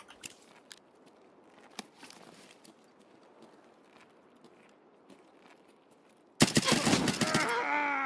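In a first-person shooter game on the Interchange map, faint clicks and shuffling give way to a sudden loud burst of close gunfire that keeps going to the end.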